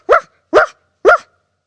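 A person imitates a dog barking with three short, evenly spaced woofs, loud and close, with silence between them.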